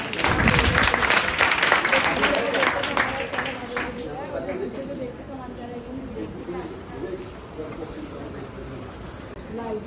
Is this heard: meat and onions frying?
no